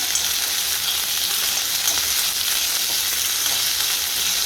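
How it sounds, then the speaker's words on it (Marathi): Cumin seeds and potato pieces fry in ghee in a kadhai, giving a steady, even sizzle that holds at moderate loudness throughout, with no voices over it. "कढईमध्ये तूप टाकलेलं आहे, जिरे घातलंय आणि बटाटा."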